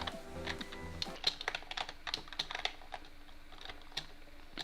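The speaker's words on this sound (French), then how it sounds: "j'espère que vous entendrez pas trop mon clavier" Computer keyboard typing with quick, irregular clicks and key taps at a low, close level, with no voices, during a walkthrough of a Minecraft parkour mod.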